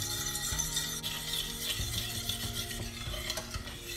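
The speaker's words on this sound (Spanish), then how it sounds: "Vamos removiendo para que no se nos pegue" An egg and milk mousse is stirred steadily in a pan over low heat, with a continuous soft scraping and faint sizzle, plus small utensil clicks against the pan and no voices.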